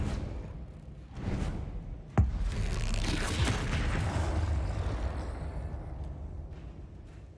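A Confringo blasting spell goes off in the Hogwarts Legacy video game: a sharp crack, then a loud booming roar that rolls on for several seconds before slowly fading.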